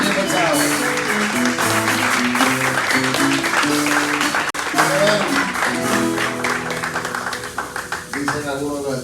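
An audience claps at a live Décima event while music with a clear melody plays loudly over it. The clapping is partly masked, and a brief dropout comes midway.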